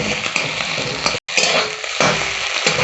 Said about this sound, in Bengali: হয়ে গেছে আমার ডিমটা ভাজা।